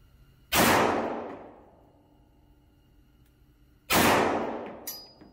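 Two loud 9mm shots from a Smith & Wesson M&P M2.0 pistol at an outdoor range, each a sharp crack with a long decaying echo, about three seconds apart.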